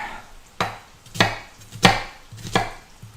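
A knife chopping an onion on a cutting board, five crisp evenly spaced thuds about half a second apart, close and clear with no talking.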